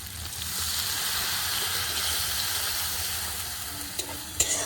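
Spice paste and fried onions with bay leaf sizzle steadily in a pan while being stirred, a constant close hiss with a few clinks of the spoon toward the end.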